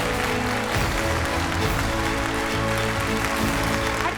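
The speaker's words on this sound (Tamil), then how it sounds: "ஒரு அரங்கம் நிறைந்த கைத்தட்டலோடு" Audience in a full hall at a stage event applauding steadily, a dense sustained clapping over a low droning background tone.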